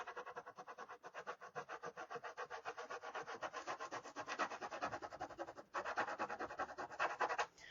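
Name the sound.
rubbing letters off a wooden sign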